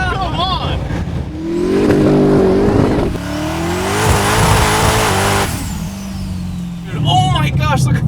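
Hennessey twin-turbo 1700 Dodge Demon doing a long rolling burnout, a loud close engine roar rising and falling with tire howl through the middle, with excited shouting from people inside the car.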